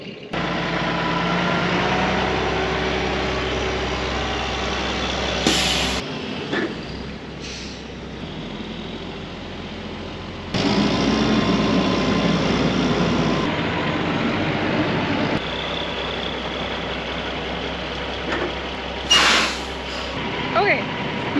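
A grain truck idling steadily while its air brakes build pressure, a loud constant engine rumble cut by short sharp hisses of air release, with someone talking over it.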